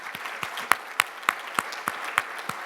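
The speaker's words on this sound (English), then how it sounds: "just have a brief round of applause." Conference attendees at LSI USA 2022 give the event staff a brief round of clapping: a steady run of crisp, evenly spaced claps from a smallish crowd, with no voices over it.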